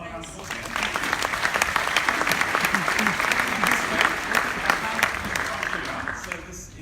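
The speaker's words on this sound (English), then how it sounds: "Can we give a round of applause again?" Audience applause fills a live event, steady dense clapping sustained throughout at close range, with some voices mixed in beneath it.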